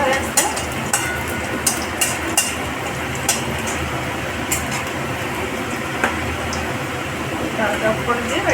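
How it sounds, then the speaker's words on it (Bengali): Loud, steady sizzle as masoor lentil dal is poured into a pan of frying onions, with a spoon scraping and tapping the pan now and then and someone talking over the cooking. "ডালটা ঢেলে দিচ্ছি"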